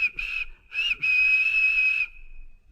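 A steam locomotive whistle gives two short toots, then one long sustained blast that fades out, clear and fairly loud with no other sound around it.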